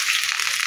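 Turmeric hits hot oil for a fish curry with rohu and cauliflower, producing a loud, close, continuous sizzling hiss with no talk.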